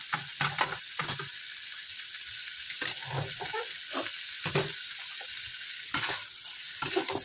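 Raw chickpeas frying in a pan with roasted spice masala: a steady, close sizzle runs throughout while a spoon stirs and scrapes the pan in repeated strokes.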